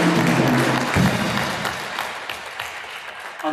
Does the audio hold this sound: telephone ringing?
no